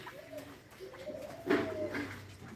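Pigeons coo outside on an overcast morning, with a few soft, low, throaty coos repeating at moderate distance over light background noise.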